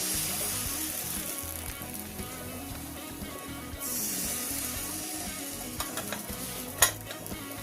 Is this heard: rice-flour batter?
yes